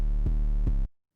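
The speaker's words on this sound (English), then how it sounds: "Now I'm going to put a little bit of distortion on, make it halfway maybe" An 808 bass note with a distortion plugin in FL Studio plays as a loud sustained tone with harmonic overtones, pulsing twice, then cutting off abruptly.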